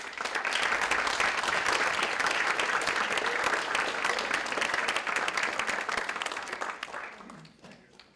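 Sustained audience applause welcoming Father James Schall at a college lecture, dense and loud for about seven seconds before thinning out near the end.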